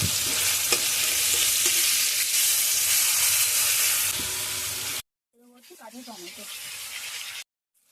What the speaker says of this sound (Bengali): এবার আমরা রসুনটাকে দিয়ে দেবো দিয়েও ভালো করে নেড়ে নেবো